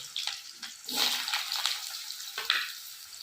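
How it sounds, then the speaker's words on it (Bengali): Potatoes going into hot oil in a heated wok, a rushing hiss that rises and falls with a few clanks of the pan and spatula. "এখন এখানে আলু দেবে আলুটা ভেজে নেবে"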